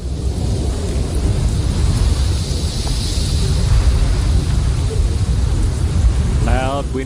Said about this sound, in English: Loud, windy snow noises.